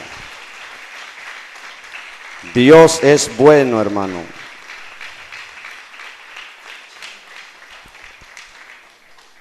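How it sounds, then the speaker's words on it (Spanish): A church congregation claps for the Lord during a sermon, a steady light applause running under and after a man's loud, short spoken exclamation. "Denle un fuerte aplauso al Señor, hermano"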